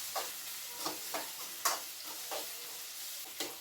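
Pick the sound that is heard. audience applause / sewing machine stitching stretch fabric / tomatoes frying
tomatoes frying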